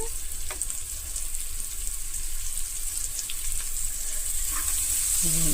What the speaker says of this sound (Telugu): ఇప్పుడు ఇది వేగుతుంది కదా